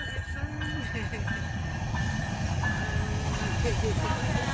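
A train rumbles past close by a park, a steady low roar with faint squealing tones above, while voices talk faintly underneath.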